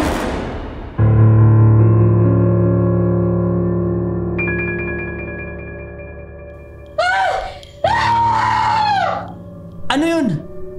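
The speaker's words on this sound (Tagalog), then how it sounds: "Bigla silang nakarinig ng malakas na sigaw mula sa banyo ng eroplano." A loud scream sound effect, set in an airplane bathroom in a horror story, comes in after a long eerie drone: several sharp, piercing shrieks near the end, loud and close, with no talking.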